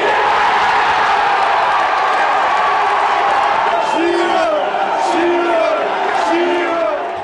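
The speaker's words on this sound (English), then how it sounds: "Crowd were up again, went crazy." Football crowd roaring and cheering after England equalise 1-1 with a Shearer goal in a match against Argentina, a dense, loud, continuous wall of voices with whoops and shouts rising through it.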